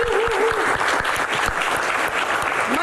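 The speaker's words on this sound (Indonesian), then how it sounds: "Kita berikan tepuk tangan yang paling meriah." A crowd at a film Q&A event applauds warmly, a dense continuous wave of clapping with a faint voice-like tone briefly audible underneath at the start.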